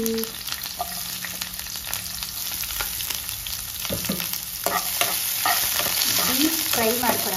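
Chopped onions deep frying in hot oil for chicken biryani, a loud, steady crackling sizzle with scraping stirs and sputtering pops throughout.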